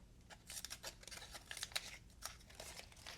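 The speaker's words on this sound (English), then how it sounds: "So these are little scissors" Small scissors on a Leatherman Skeletool multi-tool snip repeatedly, a quick series of crisp, close, quiet cuts with no talking.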